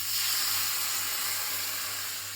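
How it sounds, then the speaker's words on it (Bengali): Water goes into a pan of frying radish and sets off a loud, steady sizzling hiss that fades slightly over a couple of seconds, with no voices. "একটু নাড়িয়ে নিয়েছি, এবার আমি একটু জল অ্যাড করবো।"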